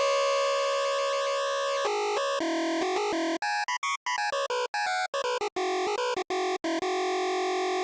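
Bright 8-bit chiptune synth lead from Vengeance Avenger 2 with a bit-crush effect: buzzy, square-ish tones in a rapid choppy melody, with loud stuttering notes and short gaps, no voices.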